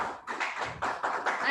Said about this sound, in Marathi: एकदा सगळ्यांनी जोरात टाळ्या वाजवायला हव्या त्याच्यासाठी